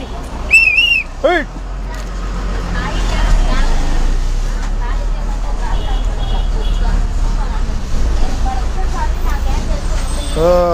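Bus passing in roadside traffic on a Telugu village route, a steady low rumble of engines and road noise with a sharp whistle near the start and scattered chatter and horn-like tones throughout.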